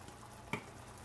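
Cumin and other spices are stirred into a sauce in a pan over a soft, steady sizzle, with one quick close clink of the utensil against the pan.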